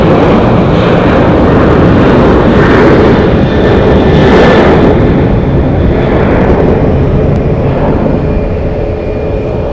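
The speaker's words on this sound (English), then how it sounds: "How rude of that airplane to get louder as I'm talking." Airliner taking off at Phoenix Sky Harbor airport, a loud, sustained broadband jet roar that swells and holds near the listener, with no talking over it.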